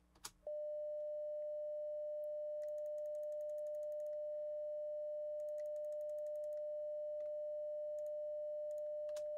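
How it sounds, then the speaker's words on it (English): A steady pure sine tone, the soloed third harmonic of a triangle wave with inverted phase, sounds continuously for about nine seconds, with faint clicks and ticks scattered beneath it. "Notice how the sine wave is inverted in phase."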